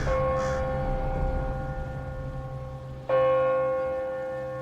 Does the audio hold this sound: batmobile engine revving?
no